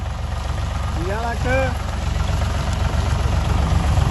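A tractor engine idles with a steady low rumbling thump near a sugarcane trolley, while a voice speaks briefly over it.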